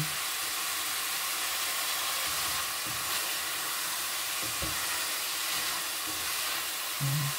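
Squid sautéing for adobong pusit: a steady, dense sizzle fills the pan throughout, with occasional stirring scrapes and a brief louder clatter near the end.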